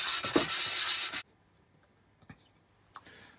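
Hand sanding of a wooden piggy bank before painting, one steady rough scrubbing burst lasting about a second, then near silence with a couple of faint small knocks.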